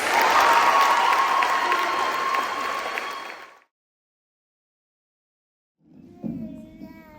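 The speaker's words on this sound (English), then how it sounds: "can we give our class of 2026 another round of applause?" A school choir audience applauds the graduating seniors at a senior recognition event, loud sustained clapping mixed with some cheering for a few seconds, then fading to silence before a brief burst of crowd murmur returns.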